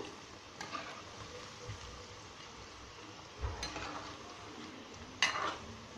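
Cabbage bonda frying in oil and being turned slowly, giving a low, steady sizzle with a few soft clinks of a utensil against the pan and no talking.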